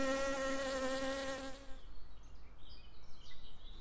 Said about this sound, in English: A busy hive is always buzzing.